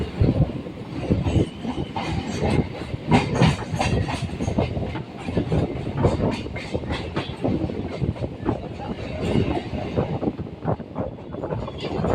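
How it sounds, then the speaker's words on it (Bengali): A Sealdah–Dankuni local train leaving Baranagar Road station rumbles along with continuous rattling and clickety-clack of wheels over rail joints, loud and close, steady throughout. "আমাদের ট্রেন এখন বরাহনগর রোড স্টেশন ছেড়ে বেরিয়ে যাচ্ছে"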